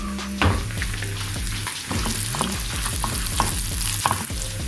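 Three dried red chillies crackle in hot oil alongside browned garlic for a Kerala tomato pickle, a loud continuous sizzle broken by close spoon scrapes and clatters against the pan, with no voices.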